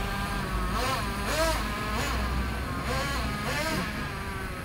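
A mini nitro engine in an RC car idles high with a steady, buzzing whine, its pitch rising and falling in a few sweeps as the throttle is blipped, close and continuous.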